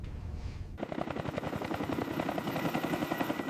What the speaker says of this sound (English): the helicopter gets the signal to withdraw home